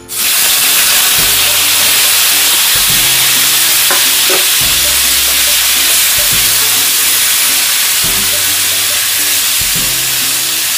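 Fish sears in a hot pan with a loud, continuous close sizzle, broken by regular bursts of stirring or scraping every couple of seconds.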